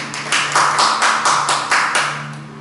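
A church congregation claps together during a Lord's Supper service, several sharp rhythmic bursts of applause about half a second apart, fairly close and loud, with no talk.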